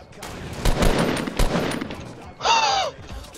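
Rapid gunfire bursts from the video game Fortnite, sharp close shots in two quick clusters followed by a brief whining electronic sound, with no voices.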